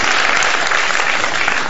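Studio audience applause on a Pakistani morning talk show, a steady dense clapping that holds at full strength throughout with no voices.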